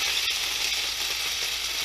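Dumplings fry in a pan with a dense, steady sizzle that hisses evenly throughout, close and fairly quiet with no voices.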